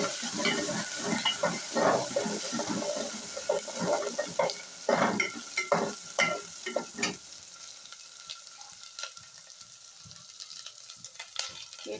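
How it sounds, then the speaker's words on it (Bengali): Ground ginger and garlic paste with spices frying and being stirred in a pan while cooking mola fish, a steady close sizzle broken by scraping stirs that thin out toward the end. "মশলাগুলি আমি 2 মিনিটের মতো এখানে ভেজে নিলাম"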